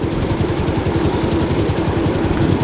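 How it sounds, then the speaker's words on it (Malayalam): A helicopter in a video game, loud steady rotor thump with a low engine drone throughout, close and continuous with no talk. "ഹെലികോപ്റ്റർ പോയി പൊട്ടിത്തെറിച്ചു"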